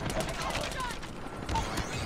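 Rapid, continuous gunfire from a sentry gun in Call of Duty Mobile, dense overlapping shots with a burst of heavier fire near the end.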